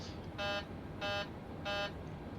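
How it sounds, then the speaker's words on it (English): An airliner's cockpit takeoff configuration warning, set off by advancing the throttle, sounds three evenly spaced, loud buzzing bursts over the low hum of the flight deck. "Just making sure that our throttle does throw the takeoff alarm."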